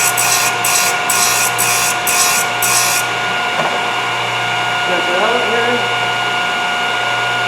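A Thorvie AV-38 grinder hums steadily while sharpening carbide saw blade teeth, with a few quick scraping swipes early on over a continuous motor drone and faint background noise.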